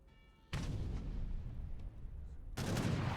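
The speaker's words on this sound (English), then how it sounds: "Oh, more heavy cannon shots." Heavy cannons fire in a strategy video game, giving two loud booming blasts a couple of seconds apart, each with a long rumbling tail of battle noise.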